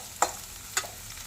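Pirandai (adamant creeper) sautés on low heat in a pan, with a soft continuous sizzle broken by two distinct spatula scrapes. No one speaks.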